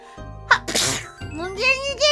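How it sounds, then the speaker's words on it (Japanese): A streamer sneezes loudly during an online mahjong game: a sharp, close burst followed by a second broad sneeze, then the voice carries on speaking. "くしゃみがめっちゃ出る。"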